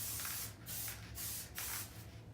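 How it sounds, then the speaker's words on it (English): Spray adhesive is applied lightly to the back of wallpaper in three short, quiet hissing bursts separated by brief pauses. "So I'm just gonna spray the back of this nice and lightly."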